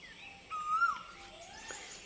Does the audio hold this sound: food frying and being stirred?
no